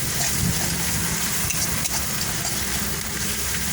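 Coriander powder and spices frying in a pan while being stirred, a steady dense sizzle with faint scraping underneath, close and continuous with no voices.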